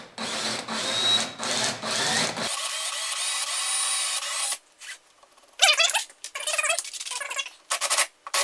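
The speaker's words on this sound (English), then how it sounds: "I'm just going to center this up and drill a hole." A power drill fitted with a 9/64 bit bores a hole during gel coat repair on a Sea Ray boat, whirring in close bursts that stop and restart, with scraping and rubbing noises afterward.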